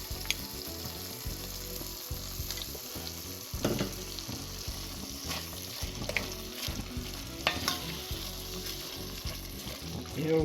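Ethiopian beef tibs frying in butter with rosemary, a dense continuous sizzle with stirring scrapes and clatter of a utensil against the pan throughout, close and steady, no voices.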